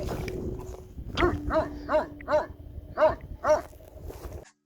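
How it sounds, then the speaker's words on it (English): A sheep-guarding dog barks repeatedly in the Pyrenees in a steady series of loud, sharp woofs, fairly close, with a low rumble in the background and no talking. "He wouldn't leave me alone, he just kept barking at me."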